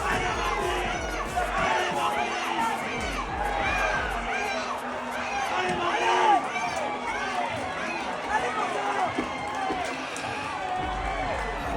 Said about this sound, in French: Et le public qui applaudit tous les concurrents